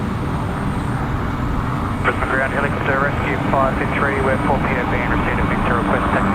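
The Rescue 533 helicopter taxis at Brisbane Airport, its steady engine drone running throughout while a voice talks over the middle stretch.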